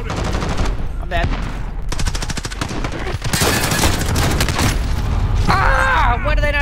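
Pistols fire in a shooter video game, with rapid, loud, dense bursts of shots and impact effects filling the whole stretch almost without pause.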